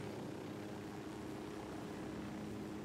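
A video-game helicopter left running gives off a steady, even engine and rotor drone that holds constant throughout, with no voices over it.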